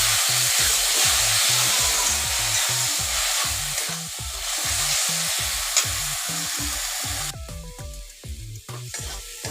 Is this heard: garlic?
yes